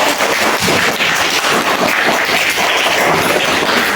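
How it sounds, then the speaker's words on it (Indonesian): Pupils in a classroom give a burst of hand clapping, loud and near, a dense crackling patter with no pause over a few seconds. "Beri tepuk tangan juga."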